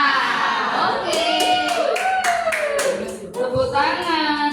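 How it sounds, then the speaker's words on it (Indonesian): Scattered clapping from an audience at an Indonesian Independence Day celebration at a school breaks out briefly and unevenly, mixed with children's voices and chatter. "Tepuk tangan di situ."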